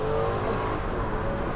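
A single-turbo 1JZ Toyota Crown accelerating, its engine a steady, muffled drone heard from inside the car with no break.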